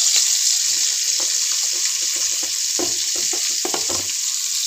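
Cauliflower, carrot, capsicum and beans sizzle in a hot pan while being made into vegetable chow mein, a steady loud hiss broken by scraping stir clatter and bursts of crackling.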